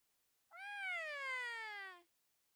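A single drawn-out cat meow from a video game cutscene, clear and close, rising briefly then sliding downward over about a second and a half, heard alone with no talk.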